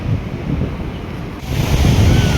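Sea surf washing in at a beach during a new-moon holy dip near a seaside Mahadev temple, a steady broad wash of waves with wind noise that swells louder in the second half.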